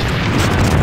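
A loud, dense grenade blast in the shooter game AVA, a continuous roaring boom filling the whole short moment with heavy low rumble.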